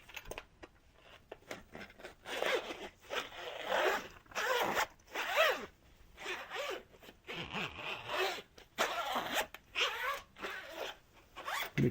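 A zipper is pulled back and forth many times, recorded very close through a binaural ASMR microphone, each stroke a short raspy burst separated by brief pauses in a quiet room.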